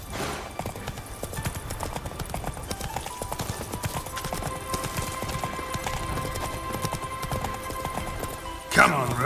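In The Witcher 3 game, the horse Roach gallops with a rapid, rhythmic clatter of hooves under a voice, joined by a brief louder burst near the end.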